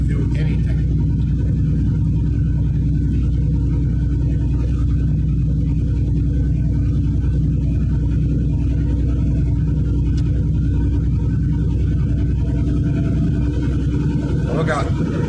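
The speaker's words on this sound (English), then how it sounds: "If we're going slow up a hill like now, it just lowered the gear." A truck's engine rumbles steadily as its automatic transmission downshifts while climbing a mountain grade on Interstate 40 in Tennessee, a loud, constant low drone heard from the cab with someone talking over it.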